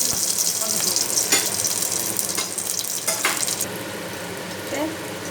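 Garlic tempering in about two spoons of hot oil for rasam, giving a steady close hiss and crackle throughout with a few brief utensil clicks over the sizzle.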